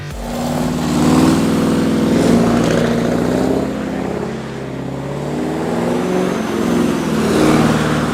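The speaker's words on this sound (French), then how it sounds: "permettent au camion d'accélérer jusqu'à 100 km/h en moins de 5 secondes." A powerful custom truck accelerates hard, its engine giving a loud, steady, deep roar that swells and holds for several seconds with no talk over it.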